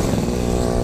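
A Yamaha RX King motorcycle engine runs close by, a loud, dense, buzzing drone holding steady through the short moment.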